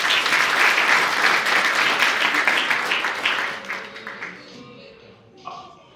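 Loud applause from a dinner and awards-night audience honoring a professor, dense and sustained for a few seconds before thinning out and fading, with a few scattered claps at the end.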